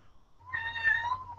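A house cat lets out a single drawn-out meow, fairly close and moderately loud, rising then falling in pitch over a quiet low hum.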